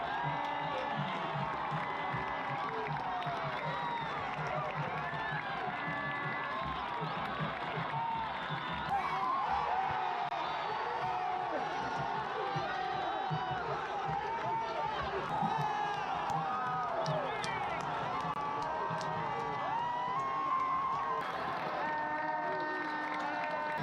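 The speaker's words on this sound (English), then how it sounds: "We soaked in the sounds and atmosphere of the stadium" Packed stadium crowd at a Puntarenas FC home soccer match, a dense continuous roar of voices, shouts and cheering that swells slightly midway and holds steady throughout.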